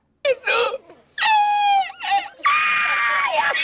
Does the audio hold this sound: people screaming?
yes